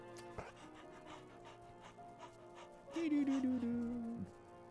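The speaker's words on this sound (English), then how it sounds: "the dog whimpered lowered its ears, sniffing me out, and started wagging his tail" A dog in the horror game Tiny Bunny panting and sniffing, then letting out a long drawn whimpering whine, close, with a low game soundscape underneath.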